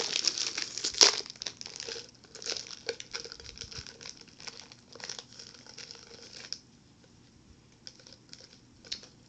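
Silver foil wrapper from a dollar snack bag of milk chocolate crinkling up close, with a loud crackle near the start followed by softer, intermittent rustles and crinkles that thin out toward the end.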